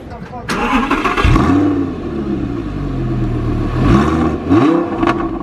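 A powerful V10 sports car engine revs up loudly, its pitch sweeping up and falling back in a couple of throttle blips, with a steady rumbling idle between them.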